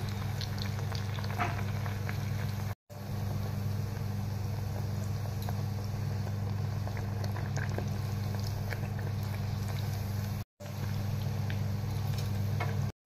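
Stuffed lentil dal puri fry in hot oil with a steady, even sizzle and bubbling that runs on without a break over a low constant hum.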